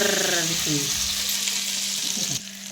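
Cumin and mustard seeds tempered in hot oil sizzle loudly and continuously, a bright crackling hiss that runs steadily before cutting off abruptly near the end.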